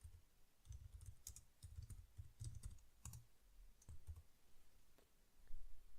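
A sudo command being typed on a computer keyboard. Quick, close clicking keystrokes come in irregular bursts with brief pauses, quiet and alone.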